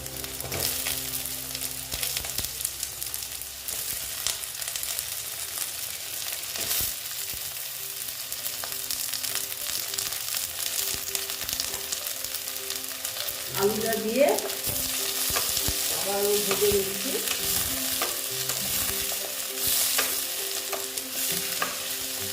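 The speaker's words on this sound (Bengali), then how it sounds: "পেঁয়াজটা একটু ভেজে নিচ্ছি এখন আমি দিয়ে দেবো আলু" Sliced onions sizzle and fry in a hot pan for a fish curry, a steady crackling hiss with occasional stirring scrapes near the middle, close and continuous, no voices.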